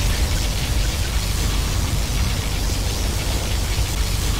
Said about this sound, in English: General, our enemy is using their particle cannon.